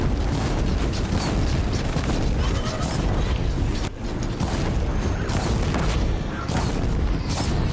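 Loud fire attacks hit a robotic machine in Horizon Zero Dawn, dense continuous roaring blasts and crashes of combat with no pause.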